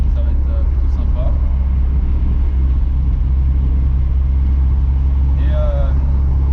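Porsche 944 engine heard from inside the car while driving uphill, a loud steady low rumble throughout, with faint bits of talk in the cabin.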